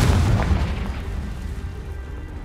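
A Confringo fire spell explodes in the Hogwarts Legacy game with one heavy, close boom at the start. A rumbling tail fades slowly under steady low background noise.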